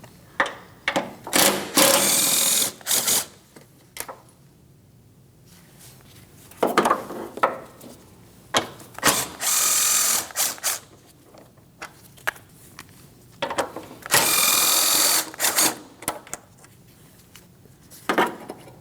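A power tool spins out 10mm radiator mounting bolts on a 2003-2007 Cadillac CTS 3.6L V6, several loud close whirring bursts separated by pauses and clinks.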